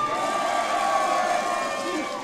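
A live crowd at the Mexicana Universal Jalisco pageant final shouts and cheers together, a steady dense roar of many voices that holds through the moment.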